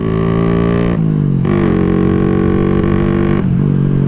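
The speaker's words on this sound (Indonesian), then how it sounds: "Kalau 4 tak 1 silinder itu suaranya aduh bikin pengang bener." A loud four-stroke single-cylinder motorcycle engine, about 140cc, drones with a harsh buzzing exhaust note, its pitch dipping and rising again in a few quick rev changes.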